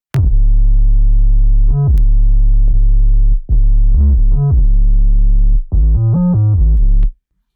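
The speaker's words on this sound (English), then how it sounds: "So I dropped an 808 in here, got the simple bass line" A deep, booming 808 bass line for a drill beat plays alone in sustained notes with pitch slides and short gaps, loud and close.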